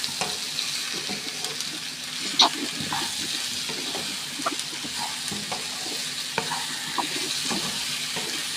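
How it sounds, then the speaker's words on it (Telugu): Ginger paste being stirred into potato and chicken curry frying in a pan, with a steady loud sizzle and scattered scraping taps of the spoon throughout, with no talking. "అల్లం పేస్ట్ కూడా మిక్స్ చేద్దాం"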